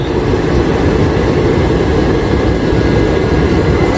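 A train thunders past at Bolpur Shantiniketan railway station, a loud, continuous, close roar of wheels and carriages that fills the whole stretch without pause.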